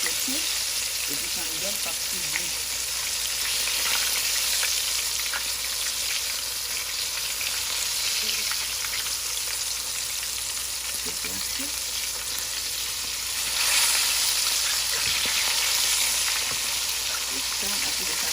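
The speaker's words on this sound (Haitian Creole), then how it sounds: "Il est bien frit en dedans." Fish and plantain fry in hot oil with a steady, dense sizzle and crackle that runs unbroken at moderate loudness, with occasional stirring and faint background sounds.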